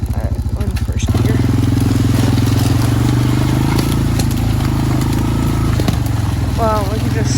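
A motorcycle grinds slowly in first gear over a rough, uncut trail being mapped for a future track, its engine loud and close with a steady low drone, while a rider talks over it.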